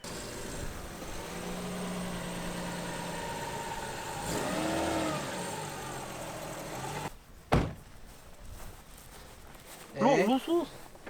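A Mercedes CLK engine fires up after a jump start and runs, a mid-pitched car engine with a revving swell, then a sharp door thud and brief clunks near the end.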